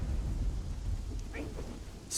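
A thunderstorm inside a video game: low rumbling thunder under steady rain, loud and close, with a brief sharper crack near the end and no talking.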